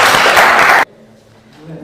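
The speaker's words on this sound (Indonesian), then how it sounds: "tepuk tangan untuk kelompok 3" Classroom applause for a student group after their presentation, a loud dense burst of clapping that stops abruptly under a second in, followed by quiet room tone with faint voices.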